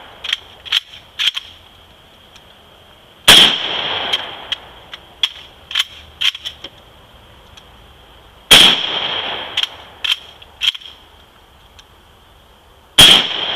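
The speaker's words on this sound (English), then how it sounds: "It's a bolt action, much larger caliber rifle, but you can still shoot it the same way as the other one." A large-caliber bolt-action rifle fires three loud, sharp shots spaced several seconds apart, each ringing with a tonal echo, with smaller clicks and pops between them and no talk.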